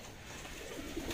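Marcopolo-strain pigeons coo in a soft, steady, continuous murmur close by, with no voices over it.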